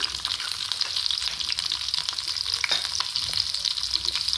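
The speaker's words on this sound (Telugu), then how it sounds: "ఫస్ట్ నేను అల్లం ముక్కలు వేస్తాను పచ్చివాసన రాకుండా అల్లం ముక్కలు పచ్చిమిర్చి ముక్కలు" Ginger and green chilli pieces sizzle steadily in ghee in a pan while making pongal, with occasional stirring clicks over a constant close frying hiss.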